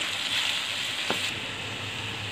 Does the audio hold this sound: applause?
no